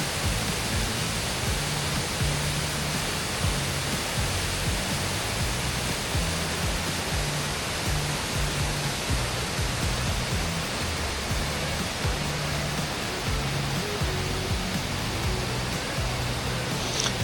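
The Khlong Lan waterfall in Khlong Lan National Park, Kamphaeng Phet province, gives a steady, loud rushing roar that fills the whole stretch without pause, with faint low rhythmic thumps underneath.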